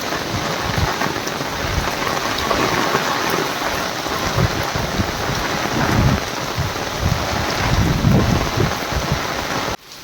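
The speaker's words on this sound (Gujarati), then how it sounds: "એવો ને એવો ચાલુ છે હવે તો વરસાદ આવી ગયો" Heavy rain pours down steadily in a village downpour, with dense broadband hiss, deep thunder rumbles swelling in the low end and gusty wind, loud and continuous until it drops off abruptly near the end.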